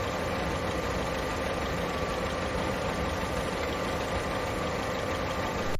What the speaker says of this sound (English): Something is wrong with my car's engine